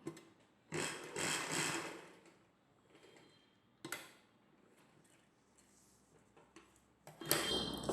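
Sewing machine stitching the end of a dress collar over a buckram piece, in short bursts of whirring separated by quiet pauses and a few clicks, close by.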